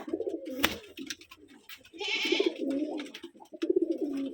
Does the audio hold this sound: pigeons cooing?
yes